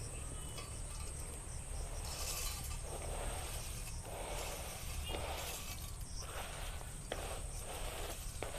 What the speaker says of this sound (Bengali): এবার চিড়ে ভাজাগুলো দিয়ে দেবো।